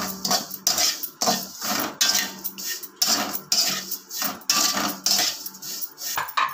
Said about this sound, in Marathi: आता आपण थोड्याशा तुपात शेवया भाजून घेऊयात